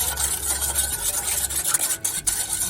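Vinaigrette salad dressing being whisked briskly in a bowl, a fast, continuous scraping and swishing churn with occasional sharper clinks, close and steady with no talking.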